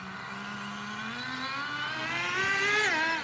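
Tamiya Terra Crusher nitro RC truck, with low compression, running steadily, then its engine pitch climbs and drops sharply as the 2-speed transmission shifts near the end, moderately close, with no talk.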